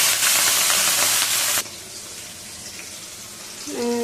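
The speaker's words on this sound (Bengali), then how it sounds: "এই যে মোটো করে আমি কাঁচা ঝাল দিয়ে দিলাম" Green chillies dropped into hot oil with cumin in a pan give a loud, bright sizzle and hiss that cuts off sharply and falls to a faint crackle, with a short tonal clink near the end.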